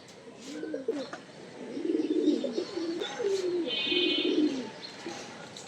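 Domestic pigeons coo in a rooftop loft, giving repeated low, throaty coos close by. A few faint chirps and a soft flutter sound in the background.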